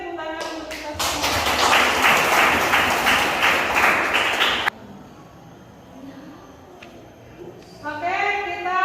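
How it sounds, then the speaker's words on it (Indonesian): Classroom applause from a high school economics class, a dense burst of clapping that lasts about four seconds and stops abruptly, followed by quieter room noise and then a teacher's voice. "tepuk tangan untuk kita semua"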